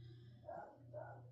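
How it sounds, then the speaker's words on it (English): Two short dog barks sound some distance away, muffled and fairly faint over a steady low hum in a quiet indoor room. "Excuse the dogs if you hear them barking."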